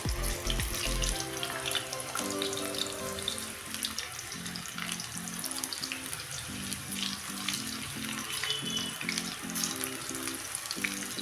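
Thin chips frying in hot oil crackle in a dense, steady hiss that runs loud and unbroken throughout, with a faint musical backing underneath.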